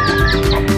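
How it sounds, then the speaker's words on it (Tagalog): Chickens in a net-enclosed pen cluck together at close range, a short dense burst of overlapping calls as they wait to be fed. "Mga manok ko guys, oh."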